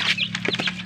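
Chicks and chickens cluck and peep in short, close, overlapping calls while being fed chick booster, with a steady low hum underneath.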